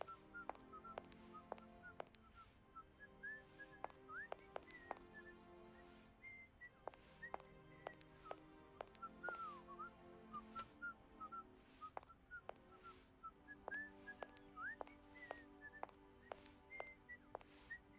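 A man whistles a tune in the video game Syberia 1 Remastered, clear rising and falling notes repeating over about eighteen seconds, set against quiet ambient game music with soft recurring chime-like accents.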